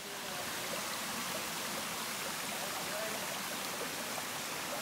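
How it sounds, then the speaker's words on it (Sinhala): A small, low-flowing stream in the village of Meethirigala babbles in a steady, continuous wash, close and even throughout with no pauses. "පොඩි වතුර පාරක් තියෙන්නේ"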